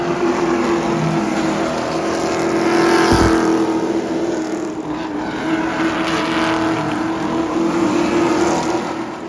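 Street stock race cars run at Orange County Speedway, their loud engines roaring continuously, with one car passing close by in a brief surge partway through before the pack's drone settles back.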